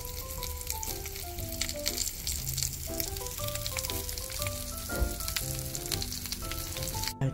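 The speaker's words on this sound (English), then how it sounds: "So I'm frying the sausages" Steady crackling sizzle of sausages frying in a pan, continuous and close, with music playing over it and no talking.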